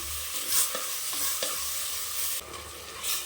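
Tomatoes sautéing in a pan for mushroom biryani, a steady close sizzle with scraping spatula strokes stirring them at intervals, no talk.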